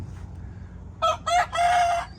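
A rooster crows once nearby in a garden chicken area, one loud crow broken into three bursts after a quiet lead-in.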